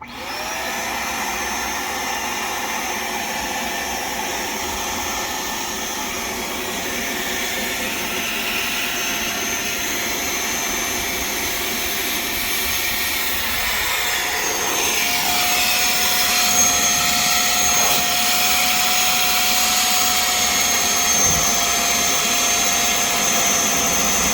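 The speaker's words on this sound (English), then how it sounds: "now we're going to try this very brand new Hoover spot cleaner and see how well it does or does not do" A brand-new Hoover spot cleaner runs inside the interior of a long-impounded car full of mildew and mold, giving a steady, close, loud motor whine and suction hiss that holds without a break and grows slightly stronger toward the end.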